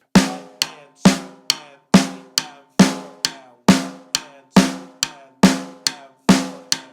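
A steady eighth-note pattern of crisp snare drum hits alternating with rim clicks, evenly spaced and loud, with no talking.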